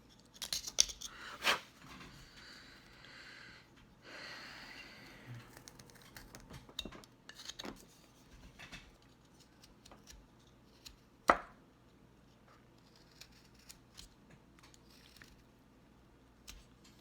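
Knife sweep cuts carving the hat of a wooden cowboy bolo tie: soft, close scraping and shaving strokes with a few sharp ticks and taps, quiet overall, no talking.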